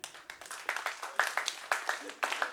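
An audience at a CHEGA party event clapping in unison at a galloping rhythm, a steady run of sharp, fairly close claps with no voices over them.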